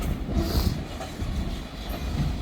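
A freight train with boxcars rolls past on the tracks by a county road, a loud, close, continuous rumble with clattering wheels and some high squealing.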